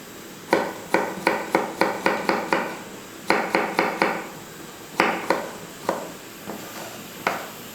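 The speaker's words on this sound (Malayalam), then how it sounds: "അപ്പോൾ ആ തേങ്ങയും കൂടെ നമുക്കൊന്ന് അരിഞ്ഞെടുക്കാം." A knife chops pieces of coconut on a cutting board in a Kerala kitchen, with quick runs of sharp, evenly spaced knocks, a short pause, then slower single strikes, close and clear.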